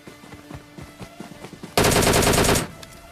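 In PUBG Mobile, a short burst of automatic gunfire rips out to finish off a bot, a loud dense volley lasting under a second after quieter clicks and footsteps, then fading away.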